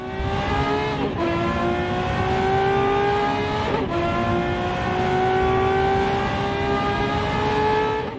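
A loud high-revving Ferrari F50 V12 engine, derived from a Formula 1 engine, screams steadily upward, with two quick gear shifts breaking the climbing whine.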